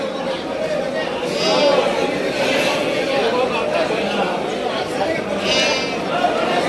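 A flock of three-month-old Bandur sheep lambs bleating repeatedly and overlapping, loud and close, with people talking in the background.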